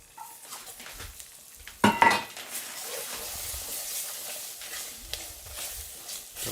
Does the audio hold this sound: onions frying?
yes